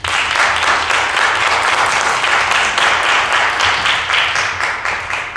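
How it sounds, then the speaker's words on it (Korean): An audience at a talk on video data management applauds to welcome a speaker onstage, a dense, loud, sustained clapping that carries on unbroken and then begins to thin toward the end. "큰 박수로 모시겠습니다."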